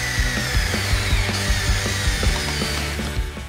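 A power drill drives pocket screws into wood for an outdoor patio chair, with rapid repeated whirring bursts and ratcheting clicks, close and loud, no talking.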